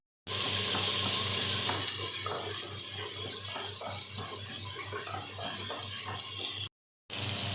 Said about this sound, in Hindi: अब इसमें ना चिकन ऐड कर देना, इसको जल्दी जल्दी भूनना है।